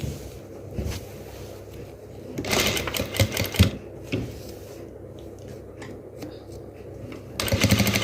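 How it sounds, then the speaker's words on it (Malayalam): Electric sewing machine stitching a crop top, its motor running in steady bursts with a louder, busier stretch in the middle and again at the end, set against a faint background hum. "മെഷീനിൽ ഞാനങ്ങ് തയ്ച്ചെടുക്കുവാണ് എളുപ്പത്തിന് വേണ്ടിയിട്ട്."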